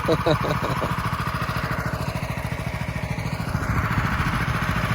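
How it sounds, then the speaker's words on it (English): A Predator 212 small engine runs in cold weather with a steady, fast-pulsing putter at close range, starting with a brief stutter before settling into an even idle. "This was the startup and maintenance of the Predator 212 engine when it's really damn cold"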